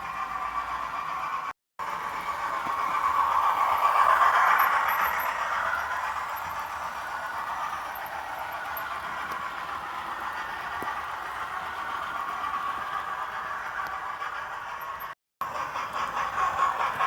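A model train set running downhill on its track, a continuous rolling rattle and hum lasting throughout, swelling slightly early on, with two brief cutouts and no talking.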